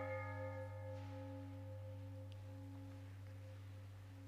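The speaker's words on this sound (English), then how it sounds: "I forgot to play the sound of a gas cylinder bell" A gas cylinder bell rings once with a bright strike, its low partials humming on steadily and slowly fading, heard alone at a quiet level.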